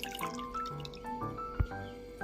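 Water draining and dripping from washed flattened rice (poha) pressed by hand, a few close, soft drips and trickles with one sharper splash near the end.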